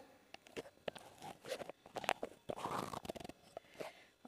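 Fox nuts (makhana) roasting in a little ghee in a pan while being stirred for kheer, faint irregular scraping, crunching and light rattling taps close by, quiet overall.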